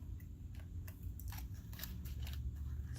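Scissors snip through a thin Easter candy wrapper in a quick series of crisp, close cuts with faint crinkling over a low room rumble.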